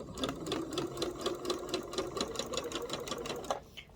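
A sewing machine runs a rolled-hem foot along the edge of a big flowing dress, its needle beating fast and even for several seconds before stopping, fairly quiet and close, with no speech.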